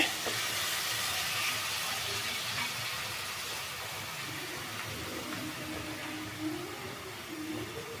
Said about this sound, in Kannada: ಮಶ್ರೂಮ್ ಸ್ವಲ್ಪ ಬಿಸಿ ಮಾಡ್ಕೊಳ್ತೀನಿ ಸ್ವಲ್ಪ ಫ್ರೈ ಮಾಡಿ ಹಾಕಿದ್ರೆ